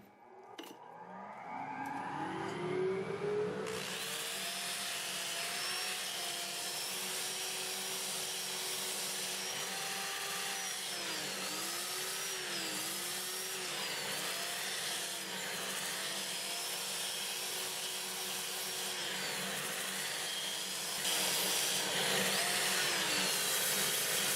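A wood lathe running forward at 380 rpm while a 2-inch 80-grit disc sands hard, dry box elder: a loud, steady whirring drone with a high grinding hiss, with slight rises and falls in pitch.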